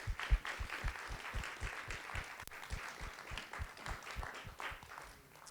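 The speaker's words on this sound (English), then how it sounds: "let's give a round of applause to that as well" Round of applause from a conference audience at a street music activism session, individual claps clearly separated and somewhat sparse, a smallish crowd heard at moderate distance for several seconds.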